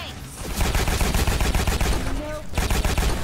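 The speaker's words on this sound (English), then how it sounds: "It's like a semi-automatic shotgun or an automatic shotgun." Rapid shotgun blasts from a semi-automatic or automatic shotgun in a video game, a loud, dense burst of repeated shots with only a brief gap near the end.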